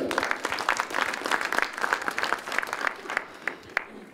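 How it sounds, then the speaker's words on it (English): Applause from a meeting audience honoring an MCC compact achievement, steady scattered clapping across the room at moderate level for the full stretch, thinning slightly toward the end. "I think we deserve a round of applause for yourself."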